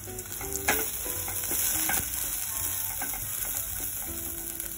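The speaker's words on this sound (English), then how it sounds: "Stir for a second." Coriander powder, turmeric and sprouted moong being stirred in a frying pan make a soft, steady sizzle with scraping and clinking from the utensil, fairly quiet and close.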